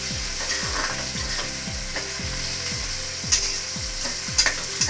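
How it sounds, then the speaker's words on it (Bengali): Onions fry in a pot while being stirred constantly, a dense sizzle overlaid by rhythmic scraping strokes of the spoon, repeated quickly and steadily, with no one speaking. "আমরা এখানে বারবার এটা নাড়াতে থাকবো যাতে পেঁয়াজটা পুড়ে না যায়"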